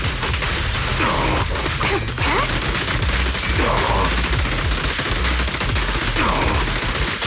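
Dense gunfire during an ambush in Zenless Zone Zero, with rapid overlapping bursts and shots that stay loud and constant over a busy game soundscape.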